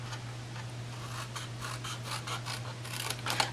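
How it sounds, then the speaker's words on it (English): Scissors snip paper for a gift card envelope tote, a series of short crisp cuts and rustles, close and fairly quiet over a steady low hum, with no talking. "Take a little bit of a snip right here."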